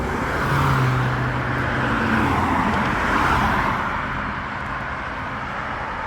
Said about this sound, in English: Got cars coming from that direction still.